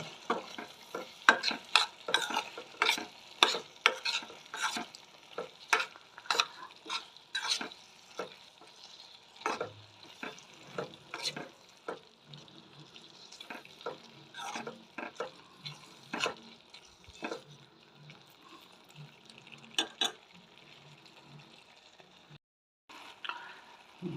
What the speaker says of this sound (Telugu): కూర మొత్తం కలిసే వరకు బాగా కలపాలి